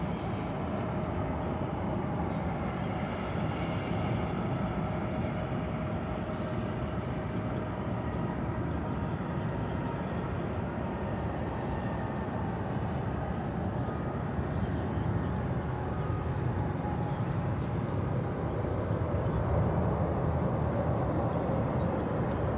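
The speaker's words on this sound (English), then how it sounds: "Here's another Embraer 175. This is coming in from Harlingen in South Texas." An Embraer 175 airliner arrives at DFW airport in the early morning, giving a steady, even wash of distant jet noise that stays constant throughout, with no voices.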